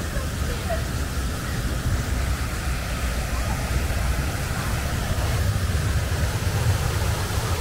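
A public water fountain in central Oslo on an evening with many people around, giving a steady broadband splash and rush that continues unbroken for several seconds.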